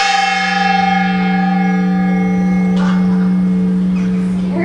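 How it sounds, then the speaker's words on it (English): The Giralda cathedral bell in Seville rings out loud and sustained from atop the tower, one long resonant toll with a humming decay that fills the whole stretch. "It's 10:15, that was the bell."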